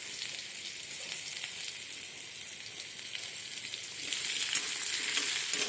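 Chopped onion and garlic with green and dried chilli, bay leaf and whole spices fry in oil, giving a dense, steady, close sizzle that swells slightly toward the end as they are stirred, with no voices.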